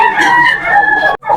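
A seven-month-old gamecock stag crows at a rooster market in Malolos, Bulacan, one loud, close, drawn-out crow that breaks off abruptly.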